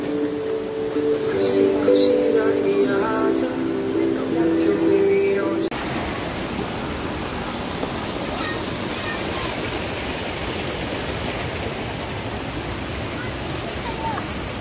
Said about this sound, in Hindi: कंटिन्यूसली बारिश हो रही है दो दिन से लगातार बारिश हो रही है